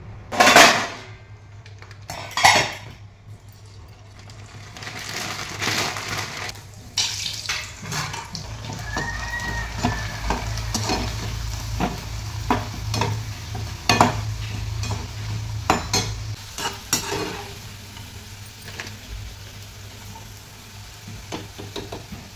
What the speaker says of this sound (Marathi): भाजी करायच्या अगोदर मला कणी पापड तळून घ्यायचं आहे